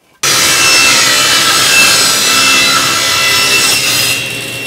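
A saw rips lengthwise through wooden boards in a woodworking shop, starting abruptly and running as one loud, continuous cutting roar for several seconds before tapering slightly at the end, with no talking.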